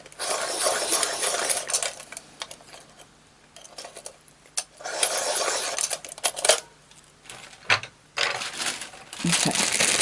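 A colored pencil is sharpened close up with short scraping, grinding bursts that come in several separate rounds with small pauses and clicks between them, and no talking.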